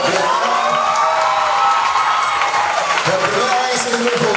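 An audience at a Miss and Mister 2017 pageant night claps and cheers for special guests, a dense, steady wash of applause and crowd noise with a few shouts, under amplified talk and music.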